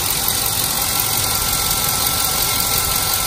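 Chevy Avalanche truck engine idling after a cylinder 3 misfire repair, a steady, even hum with constant loudness and no breaks.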